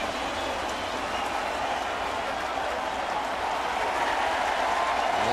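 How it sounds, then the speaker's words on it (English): A Yankee Stadium crowd applauds and cheers for a home run curtain call, a dense, continuous wash of clapping and roaring from a large ballpark audience that stays steady throughout. "And he gets a curtain call from the crowd."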